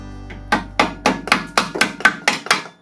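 A BMW differential is hammered into place with about nine sharp, evenly spaced metallic blows, loud and close, with nothing else heard.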